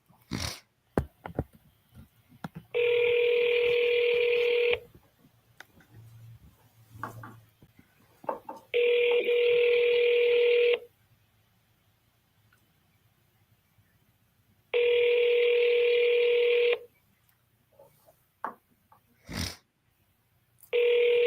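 Three long steady telephone ringback tones, each about two seconds, repeat with several seconds of near silence between them during a phone call that ends at an automated forwarding message. Scattered faint knocks and clicks fall in the gaps.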